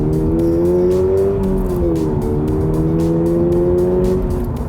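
A 2023 Toyota GR86 GTS sports car drives through a tunnel, its engine droning steadily with rising and falling tones as it holds speed, loud and close inside the cabin with road noise underneath.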